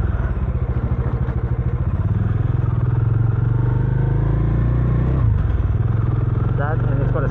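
A Bajaj Dominar 400 motorcycle rides over rough, bumpy rural hill roads, its engine droning loud and steady with rattles and thumps from the bumps, mixed with wind and talk.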